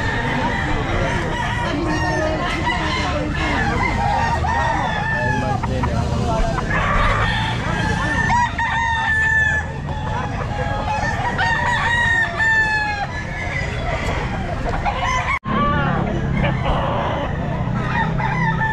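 Lemon Sweater gamefowl roosters at a busy Philippine pet market, several birds crowing repeatedly and overlapping, with clucking, crowd chatter and talk underneath throughout.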